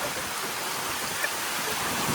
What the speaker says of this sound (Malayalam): എന്തായാലും ഭയങ്കര മഴയാണ് ഗൈസ്